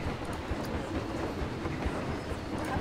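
A roller coaster train rolls along its track in Planet Coaster, a steady, even rumble with faint rail clatter running throughout at moderate level, no voices.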